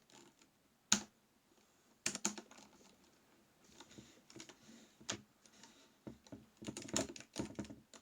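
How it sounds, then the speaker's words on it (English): Typing on a ThinkPad laptop keyboard, bursts of close, crisp key clicks in uneven clusters with short pauses, some sharper louder strokes, no talking. "Here, I'll give you some typing ASMR."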